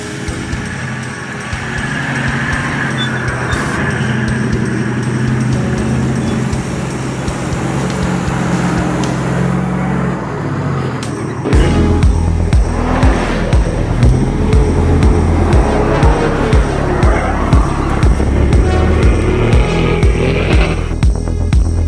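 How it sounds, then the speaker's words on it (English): A vehicle drives along a sandy beach in Tasmania, its engine a steady loud rumble and hum that deepens and grows louder partway through, with wind and road noise throughout and no talking. "we're on the beach, driving on the beach in Tassie"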